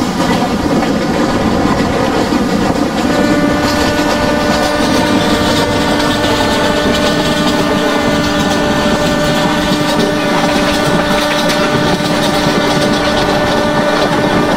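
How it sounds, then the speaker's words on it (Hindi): Simulated Indian express train from the Open Rails train simulator running alongside on a parallel track near Mumbai, a steady loud rumble with rhythmic wheel clatter and hum throughout, no voices. "काशी एक्सप्रेस भाई, गजब की पैरेलल रेस चल रही है फ्रेंड्स"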